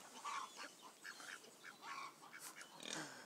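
A duck quacks repeatedly in a recording studio, a series of short nasal honking calls at close range, fairly loud and irregular, with no talk.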